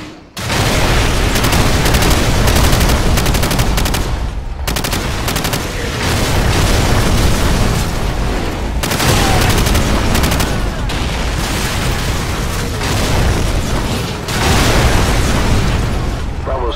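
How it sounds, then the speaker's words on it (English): Artillery shells from a danger-close fire mission pound the battlefield in Call of Duty: Modern Warfare, a near-continuous barrage of loud booming blasts with brief gaps, dense rumbling and debris filling the whole stretch. "Warhammer, fire mission, danger close."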